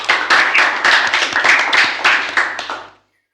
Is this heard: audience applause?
yes